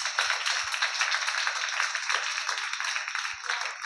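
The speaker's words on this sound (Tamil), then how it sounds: "ஒரு கைத்தட்டு கொடுக்கலாமா?" A church congregation at a Tamil Christian service claps together in a steady, dense burst of hand clapping, close and continuous with a few faint low taps.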